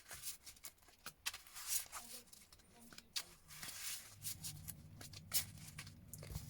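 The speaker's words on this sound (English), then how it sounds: "I'm just going to shuffle out the deck." A deck of cards is shuffled in a digital card game, giving a quick run of crisp clicking and riffling ticks over a steady low background hum, with faint talk underneath.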